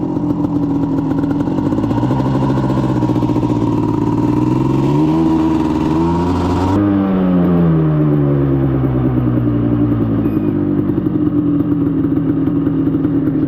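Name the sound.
1988 Suzuki LT250R ATV engine running while being ridden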